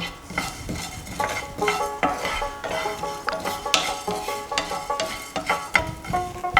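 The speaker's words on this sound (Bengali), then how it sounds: "দু টেবিল চামচ গোটা ধনে এটাকেও একইভাবে রোস্ট করে নেব" Two tablespoons of whole coriander seeds dry roasted in a pan, with a steady run of scraping and rattling as a spatula stirs them against the metal, close and fairly clear, no voices.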